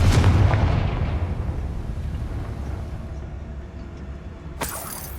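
A Confringo fire spell from Hogwarts Legacy erupts in a loud, booming blast at the start, then rumbles down through a long fading tail, with a sharp crackling burst near the end.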